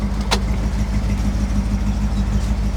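A 1961 Chevy Impala with a 409 engine idles close by with a deep, steady rumble, and a brief sharp click sounds near the start.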